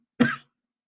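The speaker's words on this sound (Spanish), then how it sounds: "que me entró una tos de repente." A single short, sharp cough, close and isolated, followed by silence.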